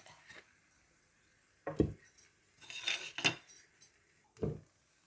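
A metal lid is set down over a pan, giving a few sharp clinks and scrapes in separate bursts amid quiet pauses, close by and fairly soft.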